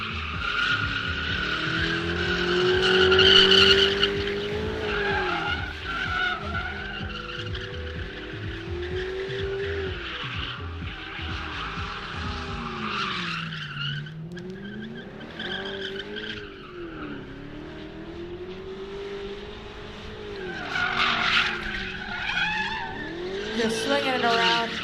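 Drift car tires squealing in long wavering howls as the car slides and swings around a drift pit, engine revs rising and falling underneath, heard from a moderate distance with commentators talking throughout.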